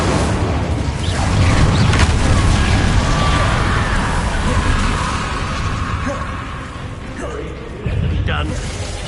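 Incendio fire spell cast in the video game Hogwarts Legacy, a loud roaring burst with crackling mechanical noise and a thud near the end, under battle sounds.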